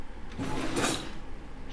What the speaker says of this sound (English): That drawer just opened on its own.